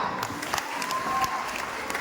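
Audience applause at a mentalism stage show, a steady wash of clapping from a crowd that holds evenly for two seconds at moderate loudness.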